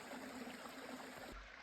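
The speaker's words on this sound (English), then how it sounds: "And that beautiful creek." A creek on the Skyway Trail flows with a steady, close broadband rush of water, continuous and even, cutting off abruptly near the end.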